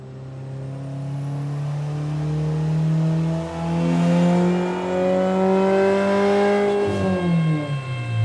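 Subaru WRX STI with stage 4 upgrades revving on a dyno during a baseline run, engine note climbing steadily for several seconds before dropping off near the end, loud and close.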